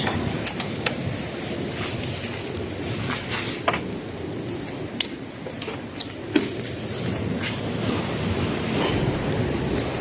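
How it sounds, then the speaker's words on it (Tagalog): Strong ocean waves crash and surge against a rocky shore, a continuous loud roar of surf with repeated splashing bursts, with wind noise buffeting the microphone throughout. "Ito, malakas yung alon dyan."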